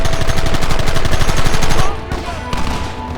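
A loud, dense volley of rapid rifle and machine-gun fire rattles in Red Dead Redemption's Blackwater, Great Plains, 1911 setting, then abruptly thins to scattered, quieter shots.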